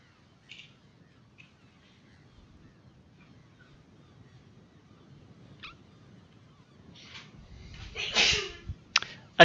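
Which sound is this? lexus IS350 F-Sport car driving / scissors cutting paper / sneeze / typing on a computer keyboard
sneeze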